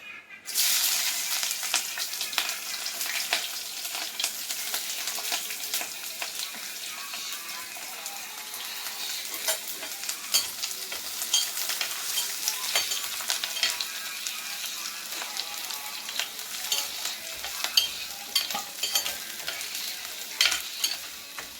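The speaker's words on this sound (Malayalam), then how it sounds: "ഇനി ഇടാനുള്ളത് പച്ചമുളക് ഇഞ്ചി വെളുത്തുള്ളി കറിവേപ്പില ഇത് നമുക്ക് ഇട്ട്" Green chili, ginger, garlic and curry leaves dropped into hot oil for a fish curry, a loud sizzle bursting at the start, then continuous close frying hiss with crackles and stirring scrapes throughout.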